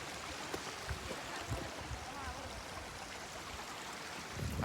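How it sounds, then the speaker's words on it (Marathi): Stream water flows and splashes over rocks near a hidden waterfall in Malshej Ghat during the monsoon, a steady close rushing with small splashy bursts, faint sounds of movement nearby. "मस्त पाण्याचा आवाज येतो"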